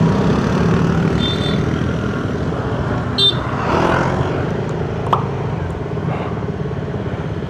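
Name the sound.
road traffic, cars passing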